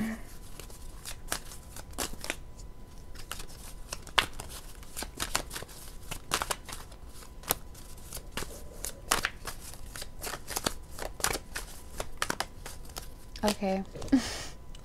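A deck of tarot cards is shuffled by hand, giving repeated sharp riffles and papery flicks in irregular bursts, close and fairly soft, with a little speech near the end.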